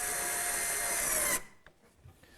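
A power tool drives screws into a wooden handle for a woodshop pullout desk, a loud steady whir for over a second that stops abruptly, followed by quiet handling noise.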